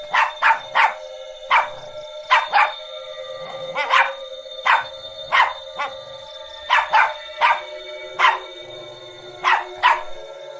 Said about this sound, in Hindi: टफी वहीं रुक जाता है और जोर जोर से भौंककर अपने साथियों को पुकारने लगता है